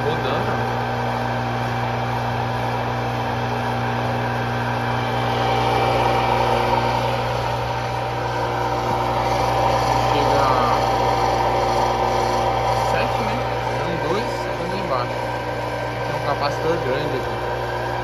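A WEG 1.5 hp, 3485 rpm single-phase pump motor runs steadily with a constant hum and high whine, loud and close, its drone holding even throughout with faint rattling underneath.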